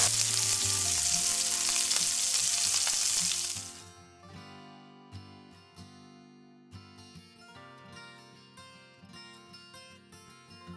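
Ketchup sauce hits a pan of vegetables for vegetable pasta, a loud, close, hissing sizzle for about four seconds that then drops away as tonal background music takes over.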